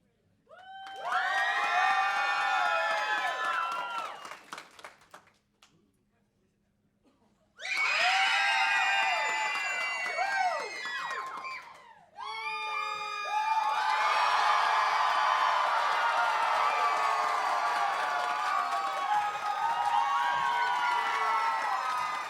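A convention crowd at a costume contest cheers, whoops and screams loudly in three long bursts, the first two separated by a brief hush and the third running on without a break, close and filling the room.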